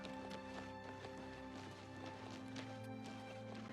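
Horse hooves clip-clop at a steady running rhythm in the video game Oblivion Remastered, quick repeated thuds over game music and ambience, fairly quiet overall.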